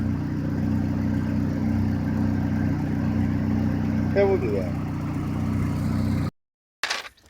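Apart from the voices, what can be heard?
race car engine running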